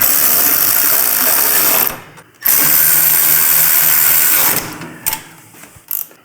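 A power tool whirs and ratchets continuously as it runs bolts into a motorcycle engine guard, loud and close, then cuts out with a brief pause, restarts, and ends in a few short bursts.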